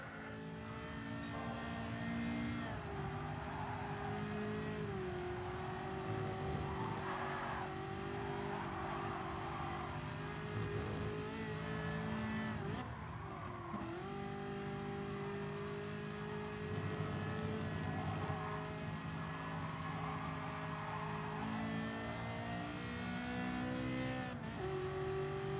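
Race car engine in the Gran Turismo Sport video game, revving steadily at high pitch with repeated rising sweeps and brief dips at gear changes, loud and continuous throughout.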